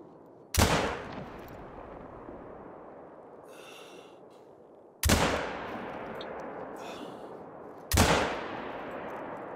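Three loud, close rifle shots from a Tsurugi LRR .388 in the hunting game theHunter: Call of the Wild, each a sharp crack with a long rolling echo, spaced several seconds apart, with faint handling noises between shots.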